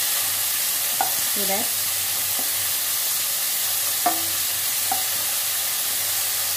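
Cauliflower masala fries steadily in a pan over high flame, a loud continuous sizzle with a few clinks of a spoon stirring, while a voice briefly speaks over it.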